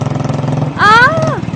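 A motorbike speeds into a village house courtyard in an animated story. Its steady engine drone swells into a loud revving whine that climbs and then falls away over about half a second.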